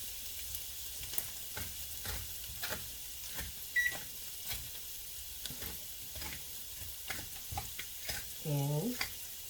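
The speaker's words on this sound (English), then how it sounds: "this is sauteing with some seasoning" Chickpeas with onion powder and garlic powder sauteing in a pan give a soft, steady sizzle, broken by repeated scraping stirs at irregular intervals and a short electronic beep near the end, with no talking.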